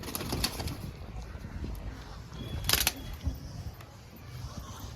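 Pigeons in an old Madrasi pigeon loft give off soft cooing and scattered wing flaps, with a brief louder flutter burst near the middle over steady low rustling ambience.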